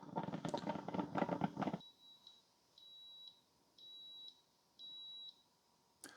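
After some clattering, a Cuisinart DGB-900BC grind-and-brew thermal coffee maker gives five quiet, evenly spaced electronic beeps, each about half a second long, signalling brewing is done.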